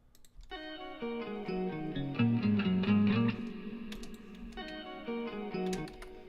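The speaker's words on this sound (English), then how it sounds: "We also have these guitars that come in." Sustained electric guitar chords drenched in effects ring out alone, with shimmering, distorted tones that swell and change across several seconds.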